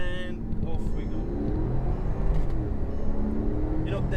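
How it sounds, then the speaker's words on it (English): A Porsche Cayenne Turbo S launches from a standstill at full throttle, its engine note a loud, steady roar that climbs through the revs and stays close and powerful throughout. "now we're gonna launch the car"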